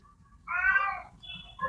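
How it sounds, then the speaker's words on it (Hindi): A cat meows twice in the background, one drawn-out call followed by a shorter one, faint and heard alone against a quiet indoor room. "पीछे से बिल्ली की आवाज आ रही है"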